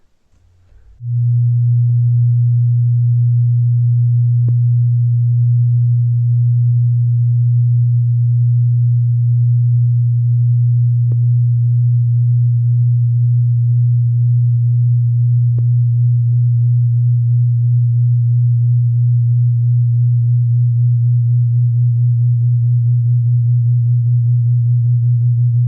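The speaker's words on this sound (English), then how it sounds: "Now watch and listen to these tone generators do the same thing." Two electronic tone generators hold nearly matching pure tones, creating a smooth, continuous wavering beat that stays loud and steady for the whole stretch, with no other sounds.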